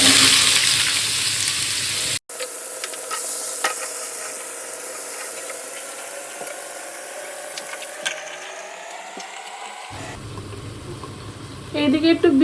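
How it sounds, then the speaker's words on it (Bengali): Thin-cut beetroot and potato frying in a pan, a steady close sizzle with stirring scrapes, a brief cut in the middle and louder crackling toward the end. "এইদিকে একটু বিট আলু ভাজছি"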